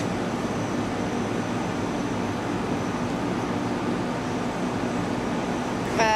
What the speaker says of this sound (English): the restaurant air conditioning is down there, which is why it's very noisy